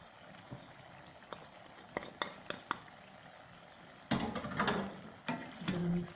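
Softened carrots and mixed vegetables being stirred with spices in a pan, starting with scattered metal clinks from a spoon, then giving way to louder, sustained scraping and stirring near the end.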